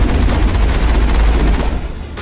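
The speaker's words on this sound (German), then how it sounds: "So, einmal voll mit dem Geschütz rein." Turret gunfire from the video game Mass Effect: a loud, dense stream of rapid shots hammering continuously, easing slightly near the end.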